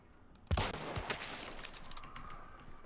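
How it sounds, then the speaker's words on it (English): Distant gunfire in a video game, a burst of several sharp shots followed by scattered fainter reports trailing off, heard alone with no talk. "You hear those gunshots in northwest"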